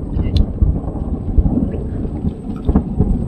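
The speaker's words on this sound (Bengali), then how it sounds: "প্রচন্ড বিদ্যুৎ চমকাচ্ছে।" Low thunder rumbles through a monsoon rainstorm in the Sundarbans, deep and continuous with a few heavier swells, mixed with wind buffeting and rain noise close to the microphone.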